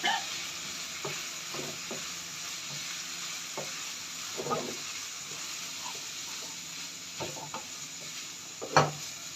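Vegetables with a small desi egg are stir-fried in a pan for vegetable rice, a steady soft sizzle broken by repeated scraping strokes and a sharper clang near the end, close and moderately quiet, no speech.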